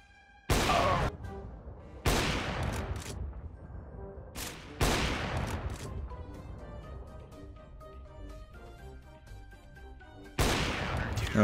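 AWP sniper rifle shots in CS:GO on a Cobblestone-style map ring out as four loud, widely spaced single blasts, each trailing into a fading echo with quieter game sounds between.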